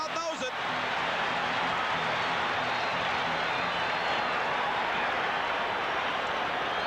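A stadium crowd roars at a 1982 Seattle Seahawks home football game against the Patriots, a loud sustained cheer and applause after a sharp start, with no talk heard.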